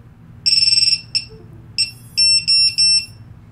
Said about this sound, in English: That is a loud buzzer.